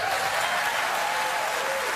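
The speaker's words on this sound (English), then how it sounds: "Even the cover gets applause" Audience applause during a talk about an album cover: a dense, steady wash of clapping from a sizeable crowd that fills the whole moment at an even level, with no speech over it.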